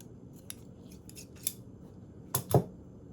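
Scissors snipping paper while cutting out a Halloween envelope treat holder, a handful of sparse crisp cuts ending in two louder, closer snips, with no talk.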